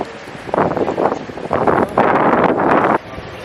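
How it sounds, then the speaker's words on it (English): Strong desert wind buffets the microphone in loud, broadband gusts that swell and drop in bursts, rushing steadily with no talk over it. "it's very windy"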